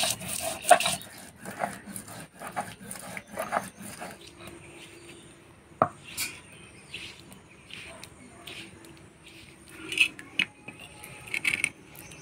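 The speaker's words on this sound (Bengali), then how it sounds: "আদা রসুন পেঁয়াজ একসাথে বেটে নিব" Ginger, garlic and onion are ground together into a paste by hand, with close, uneven rubbing and scraping strokes, sharp little clicks and knocks, and quieter pauses between bursts of grinding.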